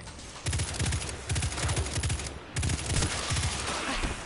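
Rapid sniper and automatic gunfire in the shooter game Destiny, loud repeated bursts of sharp shots in several volleys separated by brief gaps, dense and close with no speech over them.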